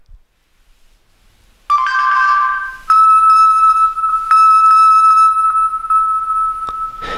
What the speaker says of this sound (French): une petite alarme permet de faire sonner le smartphone